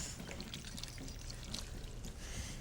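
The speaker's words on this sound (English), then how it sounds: "Then I'm gonna add tomatoes, a 28-ounce can of crushed tomatoes in puree." Thick crushed tomatoes in puree from a 28-ounce can pour into a pot in a steady, soft glugging stream, continuous and fairly quiet throughout.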